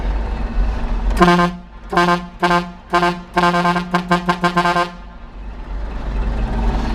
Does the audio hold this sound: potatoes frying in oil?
no